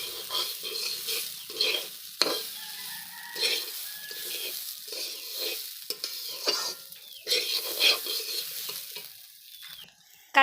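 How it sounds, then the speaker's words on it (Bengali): A spoon scrapes and stirs vegetable khichdi in a frying pan, with repeated close strokes over a constant oily sizzle. "তো এখন একটু নেড়ে নিব।"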